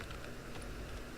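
Keyboard typing during ARK gameplay, a soft continuous patter of quick key clicks over a steady noisy background.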